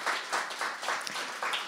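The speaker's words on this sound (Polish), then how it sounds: "Tak, brawa, wielkie brawa" An audience at a sung-poetry evening applauds a lead guitarist, the clapping coming in rhythmic swells roughly every quarter second, moderately loud.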